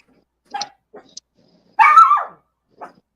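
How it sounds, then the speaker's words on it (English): A dog barks a few times in close succession during a home live stream: short sharp barks, then a louder, longer yelping bark, fairly near and clear with no talk over it. "There goes a dog."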